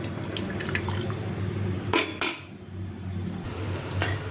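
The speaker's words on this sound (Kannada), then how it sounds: "ಫ್ರೆಂಡ್ಸ್, ಇವಾಗ ಒಂದು ಕಡಾಯಿ ಇಟ್ಕೊಂಡಿದ್ದೀನಿ." A metal kadai is set down on a home kitchen stove, giving two sharp clanks close together, with lighter clinks of utensils and a steady background hum around them. No one speaks.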